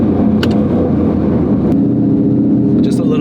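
A Roush car accelerating at wide open throttle, a loud, dense engine roar sustained throughout and heard close, with brief sharp transients over it.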